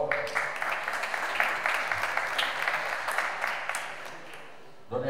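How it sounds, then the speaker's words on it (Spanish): An audience applauds at the award ceremony for a youth golf championship at La Cañada, with sustained even clapping that swells slightly and then fades, ending with a brief noise. "Un aplauso, por favor"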